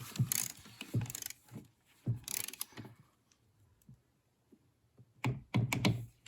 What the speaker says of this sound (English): So we're going to torque on our manifold here, 105 inch-pounds.